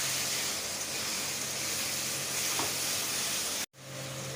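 A masala paste for chicken kosha fries in a pan with a low, steady sizzle and faint stirring, continuous and close, cut by a short drop to silence near the end before resuming.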